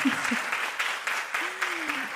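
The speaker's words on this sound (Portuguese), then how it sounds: "A salva de palmas é precisa" Steady clapping from a seated audience at a Portuguese-language panel on journalism and literature, moderately loud and even throughout, with a faint voice passing briefly beneath the applause.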